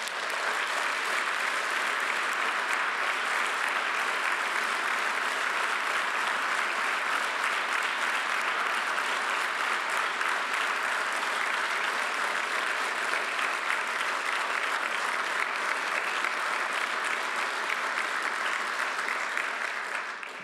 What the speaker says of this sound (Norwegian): jeg synes at vi kan gi dem våres moralske støtte gjennom en skikkelig applaus